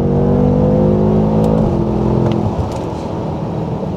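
BMW M5 F10 Competition accelerating hard from inside the cabin, a loud, steady, deep engine roar with tires slipping, rising in pitch, then a brief gear-change dip before it pulls on.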